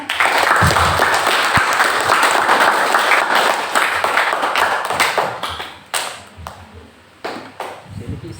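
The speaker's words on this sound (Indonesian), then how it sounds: "berikan aplaus untuk setiap kandidat" A crowd of students claps steadily for the student council candidates, dense applause that thins into scattered claps toward the end.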